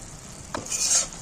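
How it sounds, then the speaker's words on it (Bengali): A spoon stirs a pinch of garam masala powder into a vegetarian long bean curry in a pan, giving one brief scrape over a soft, low sizzle, close by and without speech. "গরম মশলাটা একটু নাড়াচাড়া করে"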